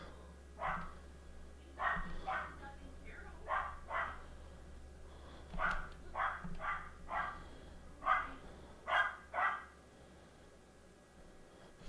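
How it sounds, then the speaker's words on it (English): A dog barks in bursts somewhere in a home while a racing sim session plays, about a dozen fairly faint yaps in an irregular rhythm, set apart from each other over a low steady hum, with no talking. "Dog's losing its mind again."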